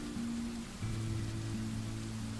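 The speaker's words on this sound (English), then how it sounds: "It's raining outside." Rain falling in the Dwarf Fortress video game, a soft steady hiss of rainfall held at a low, even level beneath sustained low musical tones, with no voices.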